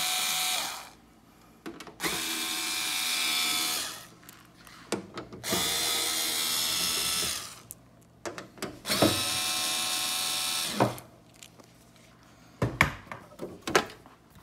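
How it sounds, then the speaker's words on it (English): A power drill whirs in several long bursts as it backs screws out of a gaming PC's case panel, each run followed by clicks and clatter of screws and handling noise, close and loud. "Now I will use the drill"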